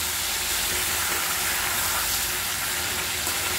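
Ginger garlic paste frying with chicken in a pan, giving a steady, dense, close sizzle that holds even throughout with no talking.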